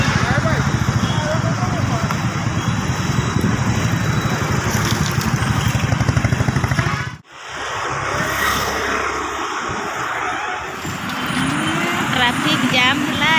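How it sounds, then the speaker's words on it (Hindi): A Hero motorcycle rides along a road with a steady engine and wind roar, dropping out briefly about halfway through before resuming, while people talk over it. "हीरो स्टाइल बाइक रे जाउछु।"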